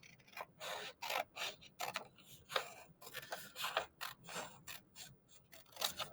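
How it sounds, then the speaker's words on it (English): Scissors cut through folded paper while tangram pieces are made, a run of rhythmic crisp snips and crunches, close and quiet, one after another with brief gaps and no talking. "I'm going to cut the top off the triangle."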